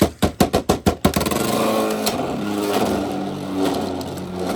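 A Beyblade launches into a stadium with a quick series of loud ratcheting clicks, then spins with a steady close whirring hum that holds for several seconds.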